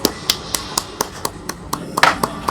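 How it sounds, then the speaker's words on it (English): A small round of applause at a bowling final, heard as sharp, evenly spaced claps at about four per second, crisp and close, with no voices. "We're going to give him a little round of applause here."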